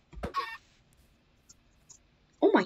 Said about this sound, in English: Did you spawn a chicken?